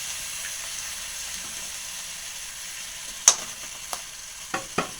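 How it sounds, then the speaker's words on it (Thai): Pad mi (Thai stir-fried rice noodles) frying in a hot pan, a steady soft sizzle running throughout with a few sharp clinks of a utensil scraping and stirring near the end. "ผัดให้หอมแล้วก็ใส่น้ำเลย"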